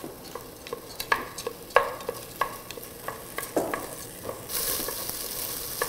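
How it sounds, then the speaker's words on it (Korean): Dry rice grains being stir-roasted in a pot for plain white rice porridge, with repeated scraping clinks of a spoon against the pot and a soft, steady rustle of the grains in between. "그래서 쌀알을 볶아주세요."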